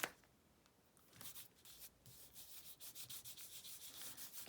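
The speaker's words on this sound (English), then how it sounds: "The more you burnish it, the smoother it gets, the nicer it looks." Paper coloured with alcohol ink blending is burnished by hand, a dry rapid rubbing that starts faint and grows into steady repeated scrubbing strokes, close and alone.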